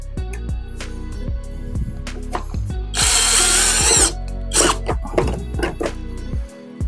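A power drill drives small 25 mm screws into wood pocket-hole joints, with a loud sustained run in the middle, a shorter burst after it, and clicks and handling noises around them.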